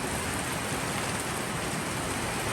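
Rain pours steadily onto a corrugated tin roof, a dense, even hiss of drops with no pauses, fairly soft and continuous throughout.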